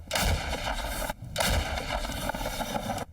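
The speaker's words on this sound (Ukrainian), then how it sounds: "Наші гармати працюють тут без упину." Two heavy artillery blasts from Ukrainian guns in the Donetsk region boom close by in frosty air, each trailing a rolling, reverberating rumble.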